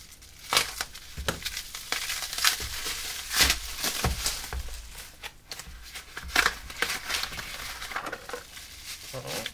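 Amain LiPo battery packs being ripped out of their packaging: repeated sharp crinkling tears and crackles of plastic and cardboard, close and fairly loud, in irregular bursts over about ten seconds with no talking.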